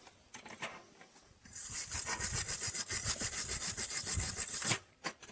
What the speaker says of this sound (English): I'll clean it with a wire brush though.